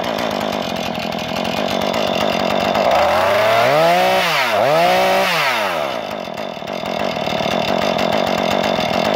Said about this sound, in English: Okay, so the saw works. This is a pretty clean saw.